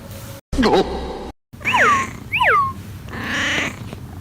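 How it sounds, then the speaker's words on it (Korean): A cat lies snug under a blanket warmed by an electric heating pad, giving a few short, warbling, grunting calls with brief gaps between them, over a low, soft rumble. "냥이는 기분이 좋은지 골골송을 부르며 이불에서 나올 생각이 없는데요."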